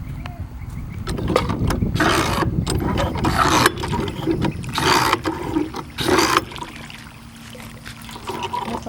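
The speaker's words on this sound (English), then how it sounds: "Sammy, you want to try this water pump?" An old hand-operated water pump on a farm during a craft day, with water splashing and trickling in uneven bursts as the handle is worked. Mechanical clanks sit under the water, and people are chatting nearby.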